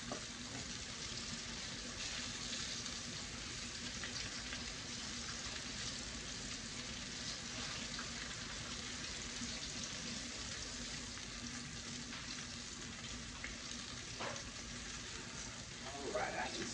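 Food fries in a hot pot on medium heat, giving a steady broadband sizzle throughout at low level, with a few faint clinks near the end.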